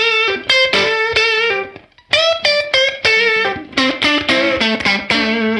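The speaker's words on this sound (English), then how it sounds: "Love that reverb. It's really fun to play with." Electric guitar played through a Universal Audio UAFX amp simulator pedal with reverb, loud distorted chords and notes in rhythmic bursts with a brief pause midway, the reverb tails ringing between strikes.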